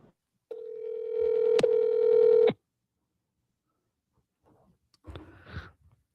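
Telephone dialing tones from an outgoing phone call, with one loud steady tone lasting about two seconds and then a shorter burst of tones after a pause, heard alone with no talk.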